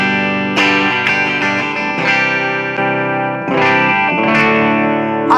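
Electric guitar played through its Gibson lead pickup with the coil tap pulled, giving a bright, heavily processed tone with distortion and chorus-like effects; repeated strummed chords ring loud and close with no talking.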